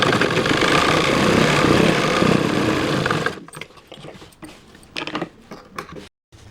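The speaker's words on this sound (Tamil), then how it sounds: "இன்னொரு தையல் அப்படியே அடித்து வெளியே எடுத்துடலாம்" A sewing machine runs fast stitching a seam on gathered pants, a loud steady whirring for about three seconds, then stops, followed by scattered soft handling clicks and rustles.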